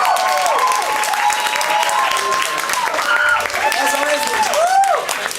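A crowd at the CEI 2025 opening ceremony cheers and shouts for the lizards team, a steady mass of overlapping yelling voices with scattered claps lasting throughout.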